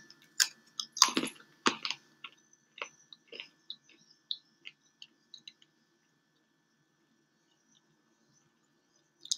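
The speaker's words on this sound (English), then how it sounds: "These are just kind of dehydrated banana slices, so they're crunchy." Dehydrated banana chips are chewed up close, with sharp, crisp crunches that come in quick bursts at first, then thin into sparse, fainter bites and fall silent.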